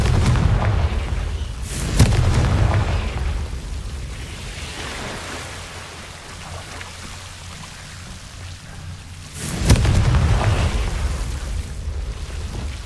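Confringo spell blasts in the Hogwarts Legacy video game, two loud booming explosions several seconds apart, each followed by a rumbling roar that fades before the next hit.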